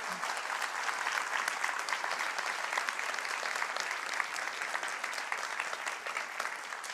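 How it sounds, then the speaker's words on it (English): An audience at the US Plastics Pact Awards applauds the winners at a conference, a full, sustained round of clapping from many people that holds steady and loud throughout. "let's give these people a round of applause"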